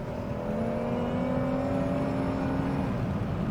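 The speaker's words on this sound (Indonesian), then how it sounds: "Kita geber dikit, kita betot, kita dengar bunyi mesinnya, oke?" A Kia Optima engine revs at full throttle, giving a steady, smooth droning whir with a slowly shifting pitch that holds at close range without a break.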